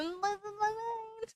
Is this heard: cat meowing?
yes